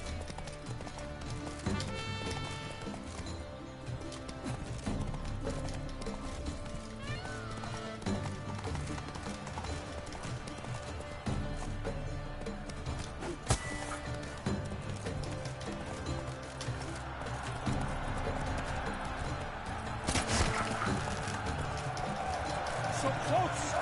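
Roach, the horse in The Witcher 3, gallops with a continuous rhythmic clip-clop of hooves under game music and ambience, with voices speaking over it and a brief whinny-like burst near the end.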